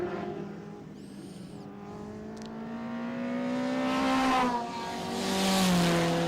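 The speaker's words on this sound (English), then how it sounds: "The number 60 front-wheel drive turbocharged machine built by Gibson Motorsport for Christine Gibson to race" A Nissan Exa front-wheel drive turbocharged race car at a historic racing event at Winton drones steadily, its engine note rising and swelling as it passes at a distance.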